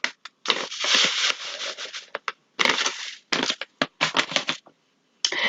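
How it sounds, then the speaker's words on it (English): Wallpaper paste being stirred with warm water in a large mixing bowl gives close, scratchy, crunching strokes in uneven bursts with short pauses between them. "Stir together the wallpaper paste"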